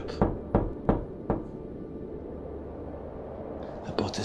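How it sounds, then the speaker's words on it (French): Knocking on a wooden house door: four sharp raps in an even rhythm, a pause of quiet, then a couple more knocks, close and clear. "Et il arrive à la porte. Il tape."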